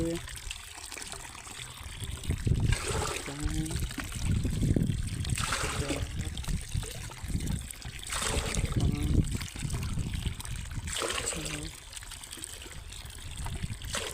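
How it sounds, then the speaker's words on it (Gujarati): Water pours from a container into a tank to mix herbicide for spraying wheat, coming in several splashing bursts with gurgling between them, and a voice speaks briefly. "તો આપણે આ સાત ડબલા પાણી નાખી દીધું"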